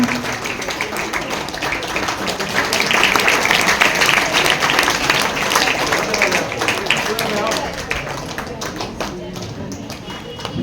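Students and staff clap for a teacher at a Teachers' Day event at Anjuman-e-Islam Anglo Urdu High School in Sangamner, a steady crackle of hand claps swelling then easing while voices chatter throughout.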